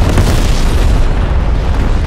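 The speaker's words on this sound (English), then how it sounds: "Napalm strike inbound." Napalm airstrike exploding in Call of Duty: Black Ops Cold War, a loud, continuous rumbling boom with heavy low-end roar that sustains without letup for about two seconds.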